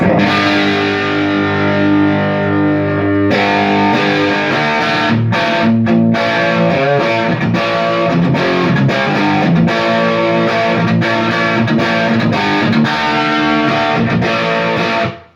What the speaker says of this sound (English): you can hear straight away the Les Paul into the AC30 is just freaking excellent